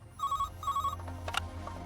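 Telephone ringing in an Indian film scene, two short electronic trilling rings in quick succession followed by fainter clicks and room noise.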